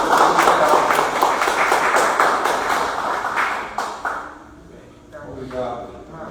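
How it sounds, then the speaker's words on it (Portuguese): Applause at a church brotherhood meeting of the Irmandade do Santíssimo in Pirenópolis, a room of people clapping loudly for about four seconds before it fades, then a few voices speak quietly. "Uma salva de palmas para o nosso"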